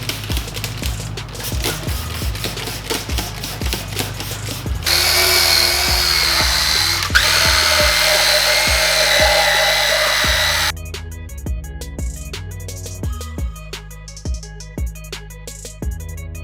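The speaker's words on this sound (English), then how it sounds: "Just from that drill brush alone" A drill brush whirs and scrubs during car detailing, a close, steady motorized buzz with rhythmic ticking that shifts in tone as the brush presses against different surfaces.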